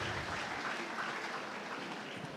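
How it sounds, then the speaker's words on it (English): Keynote audience applauding after the speaker is introduced, a dense, steady wash of clapping that stays loud and even throughout. "Can we give him a round of applause?"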